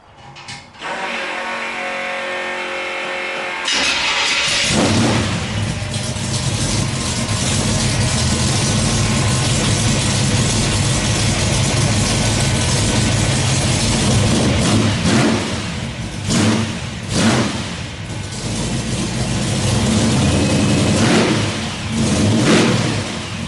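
A big offroad wrecker truck engine cranks and fires up, then revs hard with loud, rumbling exhaust through glass-pack and cherry-bomb mufflers, the throttle rising and falling repeatedly close by.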